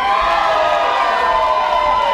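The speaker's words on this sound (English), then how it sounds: "Big cheer for the fighters!" A loud, dense crowd at a white-collar boxing event in Norwich cheers and shouts for the fighters, sustained and close for about two seconds with a mix of high-pitched voices.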